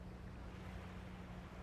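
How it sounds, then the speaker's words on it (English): Soft, steady surf of gentle ocean waves washing in a continuous hush, with a low rumble and faint wind noise underneath; no voices. "as we listen to all those lovely beach sounds."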